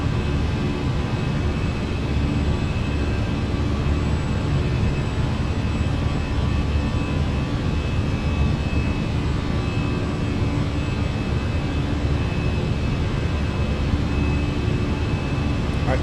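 Fenix A319 jet engines in Microsoft Flight Simulator roar steadily during the climb, a loud, constant broadband engine drone with a thin high whine that holds unchanged throughout.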